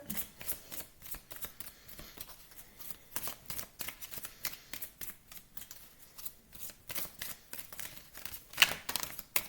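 Tarot cards shuffled by hand, a rapid run of crisp papery riffles and slaps in irregular bursts, close and fairly quiet, with no talking.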